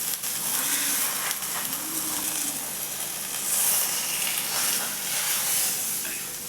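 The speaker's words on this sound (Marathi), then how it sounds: "आता खरपूस रंगावर धपाटं भाजून घ्यायचं" Pumpkin dhapate flatbread sizzles steadily as it crisps on an oiled tawa, a soft continuous frying hiss that swells slightly midway, with no talking.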